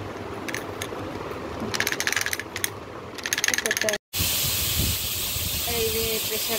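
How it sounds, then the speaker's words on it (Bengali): A new pressure cooker on a home stove lets off steam through its whistle: light rattling and ticking at first, then after a brief break a loud, steady rushing hiss that fills the rest of the clip. "এই যে প্রেসারে সিটি হচ্ছে, দুটো সিটি মোটে হলো এখন।"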